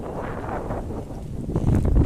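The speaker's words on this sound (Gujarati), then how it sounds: "અત્યારે પવન વાવડો થઈ ગયો છે" Loud gusty wind buffeting the microphone, a low roaring rush that swells stronger toward the end.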